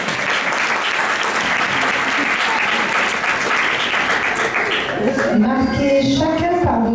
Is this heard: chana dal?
no